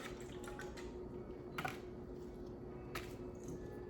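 Water drips and drains from a plant pot, a quiet trickle under low background noise, broken by a few sharper splashes and drips.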